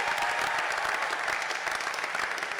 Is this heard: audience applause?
yes